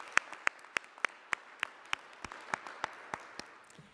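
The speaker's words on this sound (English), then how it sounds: "I think he deserves an applause." Sparse, evenly spaced hand claps from a small audience applauding a finance minister at a school project event, fairly faint and regular, about a dozen sharp claps.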